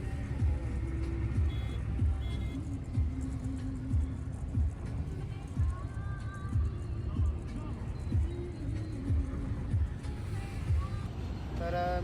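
A tractor fully loaded with sugarcane rumbles along a road with a steady, close engine drone and a few tonal whines, while voices talk over it.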